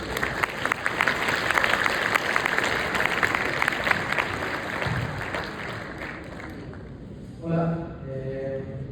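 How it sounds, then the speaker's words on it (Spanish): An audience at a congress gives a strong round of applause, a dense, loud patter that fades after several seconds as a person begins speaking. "Ofrezcámosle un fuerte aplauso."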